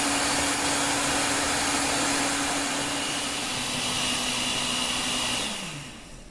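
An electric hand mixer beats birthday cake batter, a steady loud whirring drone that holds for most of the stretch, then slows and winds down near the end; no talking.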